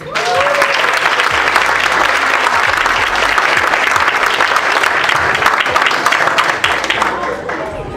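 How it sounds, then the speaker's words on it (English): A loud, thunderous round of applause fills an awards ceremony for a Trailblazer Awards honoree, dense clapping running continuously with cheers and crowd voices blended in, tapering slightly near the end. "please give a thunderous round of applause for your 2018 Future International Trailblazer Awards honoree, Miss Addison Riley"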